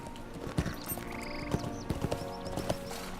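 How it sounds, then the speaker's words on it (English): Horse hooves clip-clop in a steady, close rhythm in the Lord of the Rings Online game, with a neigh rising briefly over the footsteps and game sounds. "Maybe we can take a horse."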